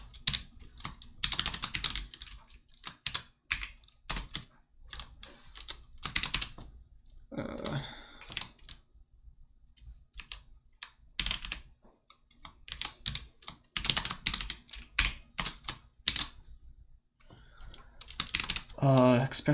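Computer keyboard typing during competitive programming, bursts of close, clattering keystrokes in irregular runs with pauses between, plus a brief low vocal noise partway through.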